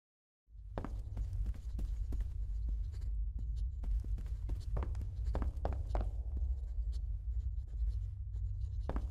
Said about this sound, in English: I was just removing an ugly stain from our display case